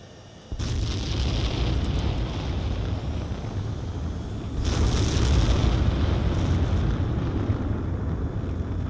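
Fighter jet launching for takeoff in Ace Combat 7, a loud sustained engine roar that kicks in abruptly, then swells into a stronger, louder thrust partway through and holds steady to the end.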